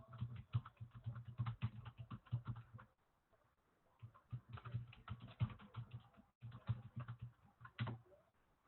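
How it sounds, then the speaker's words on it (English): Someone types steadily on a computer keyboard in close, quiet bursts of rapid clicking, separated by short pauses, with no talking. "I'm going to type it in so it's easy for you to access."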